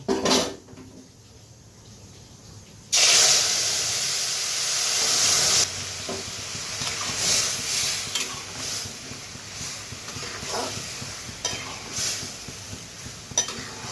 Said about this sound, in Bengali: তো ফোড়নটা করা হয়েছে। তো ডালটা এখন ছেড়ে দেব।